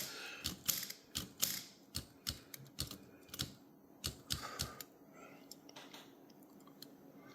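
Type bar mechanism of a Smith Corona Skyriter typewriter being worked: a run of sharp, irregular metallic clacks and clicks, close and moderately loud, thinning out toward the end.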